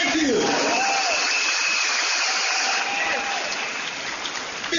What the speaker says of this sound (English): please give yourselves a round of applause for staying till now